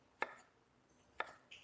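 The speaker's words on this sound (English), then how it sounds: "I am chopping up" Two separate knife chops through a pear on a cutting board, sharp and close, about a second apart, with a faint hiss between them and no talking.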